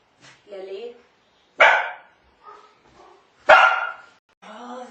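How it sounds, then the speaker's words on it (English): Two sharp, loud dog barks ring out close by, each followed by whining and whimpering in between. "Oh, the dogs,"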